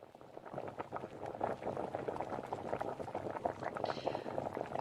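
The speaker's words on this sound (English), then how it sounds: "Let's have some tasty bubbling." Steady bubbling of a cooking sound effect, dense quick pops of boiling liquid at a low, even level throughout, heard alone.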